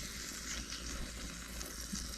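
A steady, soft sizzle of steak frying over a camp cooking setup, a continuous crackling hiss at low volume with no talk.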